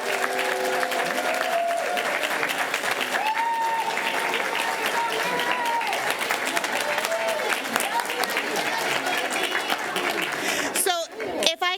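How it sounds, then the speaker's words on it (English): An audience at a school board meeting gives sustained applause for math scholars, with dense clapping running throughout and a few voices and cheers faintly over it before it breaks off near the end. "A round of applause."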